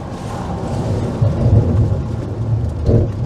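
A thunderstorm with rain rumbles outside, heard from inside an old Volkswagen Type 2 van converted to Tesla power, a steady loud wash of rain under a deep rolling thunder.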